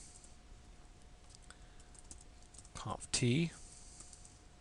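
Typing switch commands on a computer keyboard, a few faint scattered key clicks under a low room hum, with a brief murmured voice near the end.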